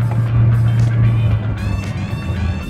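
A Mitsubishi Lancer Cedia with a Tiptronic automatic transmission accelerates from inside the cabin, a loud low engine drone that rises and shifts in pitch as speed builds.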